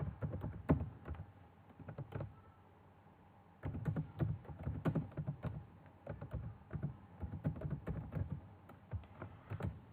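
Quiet, close keystrokes as an Excel HLOOKUP formula is typed on a computer keyboard, with irregular clusters of taps, a brief pause, then more rapid typing, and no voice.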